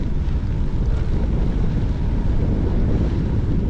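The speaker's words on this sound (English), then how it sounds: "This is a pretty stiff wind and I'm starting to turn back into it." Stiff wind roars across the microphone during a gravel bike ride in High Springs, Florida, a steady, loud broadband rush with no pauses.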